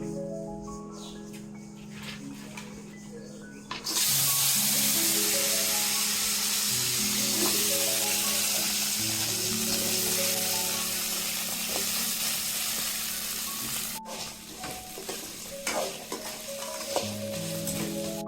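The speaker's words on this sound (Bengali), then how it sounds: "এখন আমি কাঁকড়াগুলো ভেজে নিব।" Crabs dropped into hot oil burst into a loud, sustained sizzle and crackle after a few quiet seconds, spattering on throughout with a soft background tune.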